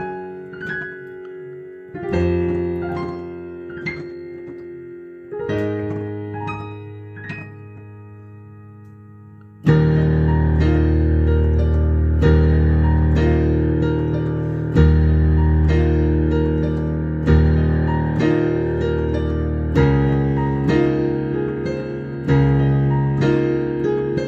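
Solo piano playing a song, starting with sparse, gently struck chords and single notes, then moving into fuller, louder sustained chords partway through, close and clear with no voices.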